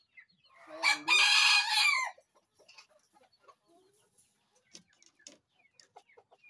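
An Ayam Cemani rooster at a chicken contest crows once, loud and close, a rising then sustained call lasting about a second, followed by soft scattered clucks and faint rustling.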